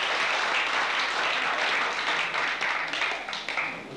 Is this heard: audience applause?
yes